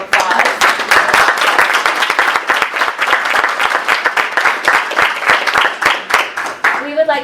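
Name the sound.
audience applause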